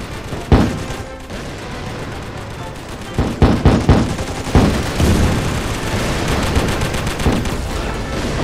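Gunfire and heavy explosive blasts from bazooka and mortar fire in a toy army men battle video game, with sharp booms and bursts of shots over a dense rumble of combat.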